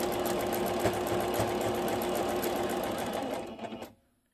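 Sewing machine stitching around the edges of a cross-stitch pillow cover, a steady close whirring hum that runs continuously and cuts off abruptly near the end.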